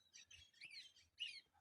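A lone chick on a poultry farm gives repeated high, thin chirps in short bursts, calling out clearly against a quiet background.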